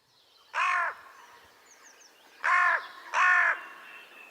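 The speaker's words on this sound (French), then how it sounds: "C'est le chant des corneilles." Three loud, harsh crow caws ring out close by, a single call followed after a pause by two in quick succession, against a quiet outdoor background.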